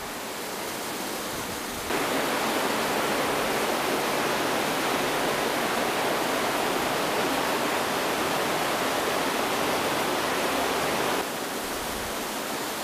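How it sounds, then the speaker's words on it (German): Underground stream in a crystal cave, a dense, loud, continuous rush of water that swells noticeably for most of the stretch and then eases back, with nobody speaking. "Aber der Bach."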